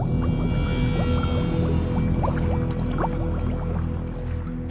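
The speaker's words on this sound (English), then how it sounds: "The disturbed gas then bubbled up." Carbon dioxide gas bubbles up through the water of Lake Nyos, with a run of bubbly, gurgling pops rising over a deep, constant low drone.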